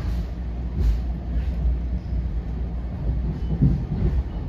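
Onboard an NJ Transit passenger train, no. 5742, running from High Bridge to Fanwood: a steady low rumble of wheels and carriage with faint rattles and occasional soft knocks, continuous and close.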